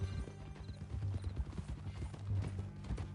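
Horse hooves clip-clopping in a steady walking rhythm in Red Dead Redemption 2, close and quiet over a low ambient bed, with no talk.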